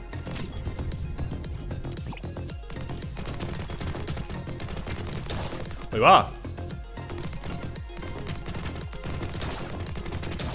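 Rapid weapon fire from the player's gun in Temp Zero, a music-driven roguelike bullet-hell game, crackling in quick bursts over a steady soundtrack, with one sharper, louder burst midway while someone talks throughout.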